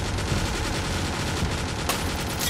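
Sustained gunfire from guns fired out of windows in a dark night chase, dense and continuous with a sharp crack near the end, no voices.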